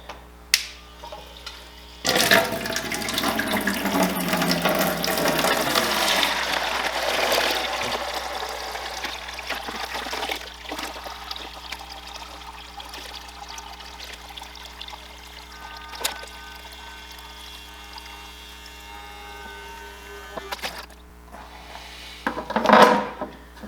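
A cheap siphon pump transfers water from a full bucket into an empty one, giving a loud rushing pour at first that settles into a steady, fainter trickle and dribble, with a few knocks and rattles near the end.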